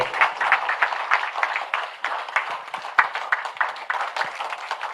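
Loud, dense applause from an audience after a meditation session, steady clapping sustained throughout with no voices over it.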